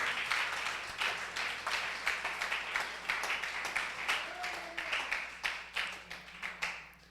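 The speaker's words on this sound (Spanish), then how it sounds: "Dele ese aplauso al Señor en esta hora." Church congregation applauding during a sermon, a moderate wave of clapping that pulses in uneven bursts and gradually thins out, heard at some distance in a reverberant hall.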